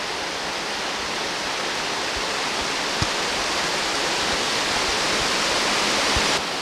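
A brook rushes steadily beneath a scenic hiking trail in Fundy National Park near Alma, New Brunswick, giving a constant, close, full-bodied water roar with no voices.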